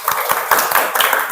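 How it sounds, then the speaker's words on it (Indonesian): A small classroom group claps briefly for another group's presentation, a quick patter of close hand claps. "beri tepuk tangan untuk kelompok Habibah"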